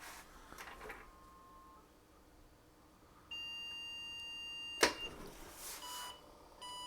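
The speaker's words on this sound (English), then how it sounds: "that's beeping at me like there's no video" Faint electronic beeps from a computer with no video signal, a thin steady tone with a short sharp click partway through, in an otherwise quiet room.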